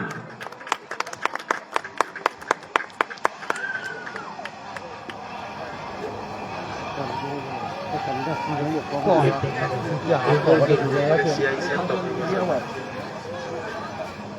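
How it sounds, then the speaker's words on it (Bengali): An audience at a sports opening ceremony claps in a quick run of distinct hand claps, which fades into a broader crowd murmur and a voice speaking over the gathering. "আমি অনুরোধ করছি সবাইকে এই অনুষ্ঠানের সাক্ষী থাকতে করতালি দিয়ে অভিনন্দন জানান।"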